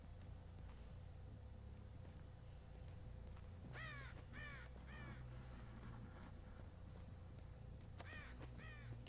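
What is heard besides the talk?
crows cawing in the video game Dead by Daylight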